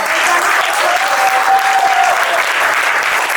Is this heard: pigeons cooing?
no